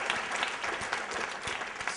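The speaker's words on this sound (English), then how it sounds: "a little round of applause for Shelby" An audience at a mayoral candidates forum gives the timekeeper brief, steady applause, a moderately distant patter of many hands with no talking over it.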